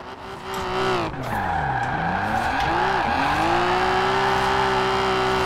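A 1988 BMW M5 skidding in the racing game Forza Horizon 4, tires squealing as the engine revs dip and rise through a slide, then settling into a loud sustained engine whine.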